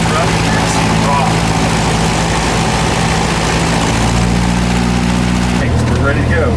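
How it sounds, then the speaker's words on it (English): A light aircraft engine runs rough and loud as the mixture is adjusted, its steady low drone shifting pitch near the end, with a voice talking over it. "This is the engine. It's going to get rough and you're going to see it raw."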